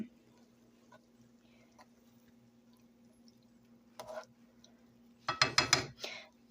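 Wine being mixed in a pan in the video game Cooking Mama: a faint background hum, then a soft clink, and a short burst of bright clattering, clinking effects near the end.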